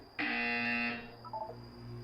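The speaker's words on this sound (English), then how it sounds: "You will hear a buzzer." Buzzer in the video game Portal 2, a single harsh electronic tone that sounds for about one second and then cuts off, leaving a few faint blips behind.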